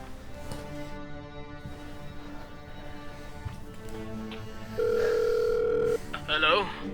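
A loud, steady telephone dial tone holds for about a second after some background talk, followed by a brief burst of higher electronic tones.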